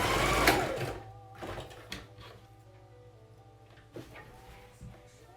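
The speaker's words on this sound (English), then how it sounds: "And then back stitch to close out the end." A sewing machine backstitches the end of a child's fabric face mask in short bursts, with a louder start, then softer intermittent whirring and clicks of handling.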